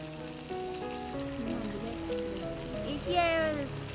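Catfish frying in oil in a pan, a steady sizzling crackle close up under soft background sounds, while a voice and some musical tones come and go over it.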